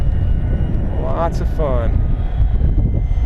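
Hobby King Avios YAK-52 1200mm RC model plane flying with a steady engine drone throughout, while someone speaks briefly over it outdoors.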